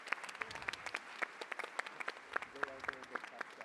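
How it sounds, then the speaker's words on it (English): Scattered clapping from a conference audience at a UNESCO education ministerial session, applauding the interpreters: distinct individual claps in an irregular patter, moderately close, with faint voices underneath. "Now give a round of applause for all our interpreters"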